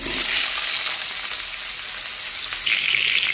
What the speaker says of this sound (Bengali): আমি একটু কালো জিরে ফোড়ন দিয়েছি, দিয়ে এবার আলুগুলোকে দিয়ে দেবো